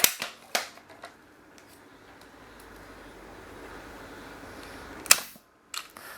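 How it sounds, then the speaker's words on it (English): A few sharp clicks and snaps of a homemade Nerf blaster's spring plunger, with a soft sustained hiss of air escaping through its leaky air seal in between, close and fairly quiet. "it just slows down the plunger by a bit, but if you can hear, it isn't the best seal"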